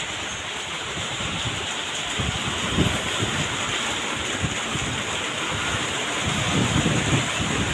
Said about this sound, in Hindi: पत्थरे पर बारिश गिर रही है